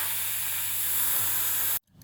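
A steady, loud deodorant aerosol spray hisses close by for nearly two seconds, then cuts off abruptly.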